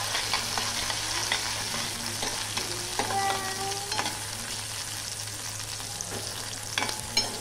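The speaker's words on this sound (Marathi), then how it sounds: "आता जिऱ्यामध्ये आपण भेंडीचं बी आणि सोललेल्या भेंड्या टाकणार आहोत आणि व्यवस्थित भाजून घ्यायचं आहे" Okra and okra seeds stir-frying with cumin, an even crackling sizzle with light scrapes and taps from stirring scattered throughout, over a faint steady hum.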